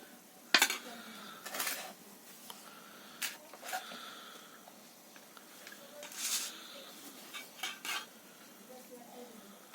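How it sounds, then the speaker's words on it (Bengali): Rice mixed with a dry, spicy curry of small farse fish, kohlrabi, eggplant, lentil badi and potato is eaten from a plate. Faint, scattered clinks and soft scraping come at irregular moments, with quiet room noise between them. "আমি একটু ভাত দিয়ে খেয়েই দেখছি কেমন হয়েছে"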